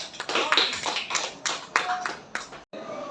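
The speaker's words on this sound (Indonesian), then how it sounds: "Beri tepuk tangan untuk Bu Enda" A small group, likely in a school or training setting, gives applause for a presenter, uneven scattered claps and taps rising and falling, moderately close, ending with a brief drop to quiet.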